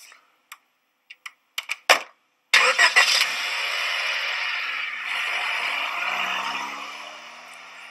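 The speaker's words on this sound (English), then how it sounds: "Say the play calls for a car door to slam, the car engine to start, and the car to drive away." A sound-effect sequence for a stage play: a few sharp knocks and a heavy car door slam, then a car engine cranks and starts, settling into a steady running drone that carries on as the car pulls away.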